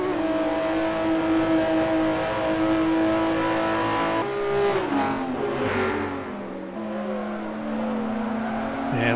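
Upgraded racing car engines in the video game Forza Motorsport 4 roar and rev at high pitch, rising and falling as gears shift, with a squeal of tyres partway through; loud and continuous.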